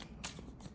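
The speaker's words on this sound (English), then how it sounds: "I'm going to grab you one of these little oracle cards." Small oracle cards are briefly shuffled and flicked in the hand, giving a quick papery riffle with a couple of soft card snaps, close and quiet.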